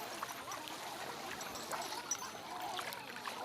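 Water flowing and trickling near the Siddheswar Baba temple at Deuljhari, a steady broadband rush at close range with a busy pilgrimage crowd around, no clear talk over it.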